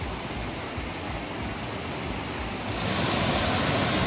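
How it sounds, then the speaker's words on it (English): Waterfall and flowing water at Etiwanda Preserve in Southern California: a steady, dense rushing roar that swells slightly louder partway through, close and continuous with no voices. "the trees and the water flowing through them"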